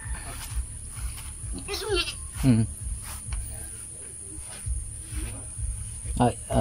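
Goats bleat a few times at moderate distance over a steady high insect drone, with low background rumble and occasional faint voices.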